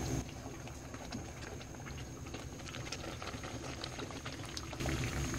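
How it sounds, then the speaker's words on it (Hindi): Hot sugar syrup poured into warm gram flour in a pan on the stove while making besan barfi, giving a steady bubbling, pattering liquid sound that continues throughout and grows slightly louder near the end. "अब हम ये चाशनी जो बना के रखे ये इसके अंदर ऐसा ऐसा डालेंगे"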